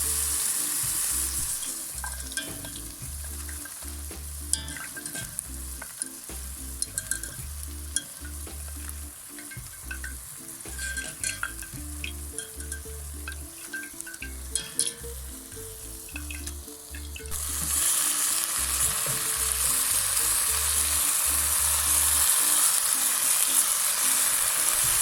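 Steak and garlic frying in a pan for a Portuguese-style bife, a steady close sizzle with occasional clinks and low rumbling, growing louder and brighter toward the end.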